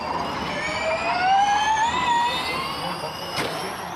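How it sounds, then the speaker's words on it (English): A Formula E electric race car drives by with a high, whining motor tone whose pitches glide upward and fall away, fairly loud and steady throughout. "It's an electric race car, and Formula E races are pretty intense."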